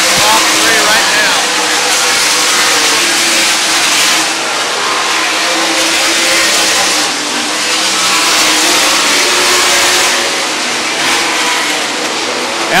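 Sprint cars racing at State Fair Speedway, a loud continuous roar of engines revving and surging as the pack runs through lapped traffic, with a track announcer talking over it.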